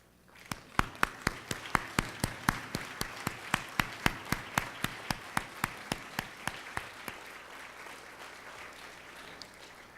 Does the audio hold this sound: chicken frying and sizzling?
no